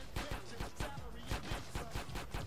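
Rapid bursts of gunfire in the video game Grand Theft Auto: San Andreas crack out in a quick, fairly regular rhythm, several shots close together at moderate loudness.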